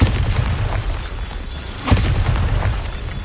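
The Bombarda spell in Hogwarts Legacy lets off a rumbling blast, with a sharper burst near the middle over a continuous booming, crackling din.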